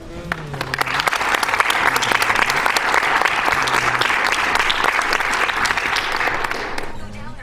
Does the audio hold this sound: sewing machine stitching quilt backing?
no